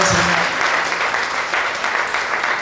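A church congregation claps together in sustained, dense applause, steady and fairly loud throughout, with no voice standing out above it.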